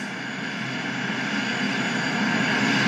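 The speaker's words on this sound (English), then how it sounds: "This is a Bombardier." Steady, loud engine roar of a Bombardier CRJ700 regional jet heard from inside the cabin, a continuous broadband drone that holds level throughout without a break.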